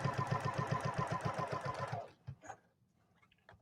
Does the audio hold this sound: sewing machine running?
yes